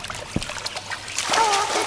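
A thud followed by splashing and sloshing water as a rooster is thrown into a deep well in a cartoon, growing louder toward the end as the water churns.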